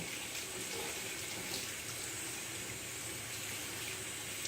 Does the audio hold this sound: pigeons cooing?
no